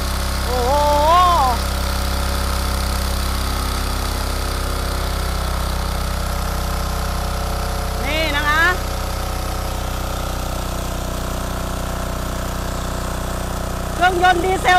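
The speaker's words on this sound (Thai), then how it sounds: "เครื่องยนต์ดีเซลตัวเล็กนะคะ14แรงม้า" A small 14-horsepower diesel engine runs a water pump lifting water 12 meters, holding a steady, close, rumbling drone throughout while someone speaks briefly over it a few times.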